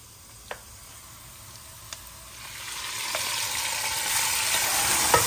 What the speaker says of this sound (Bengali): আজকে কুরবানির মাংস নতুন করে আবার রান্না করা হচ্ছে